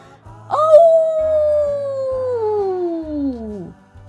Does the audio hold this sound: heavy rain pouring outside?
no